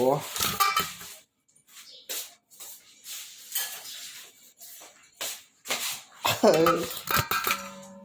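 Fermented shrimp spooned into a jar in a home kitchen, heard as scattered clinks and scrapes of a utensil against glass and dishes, in short separated bursts with quiet gaps, with a little talk nearby.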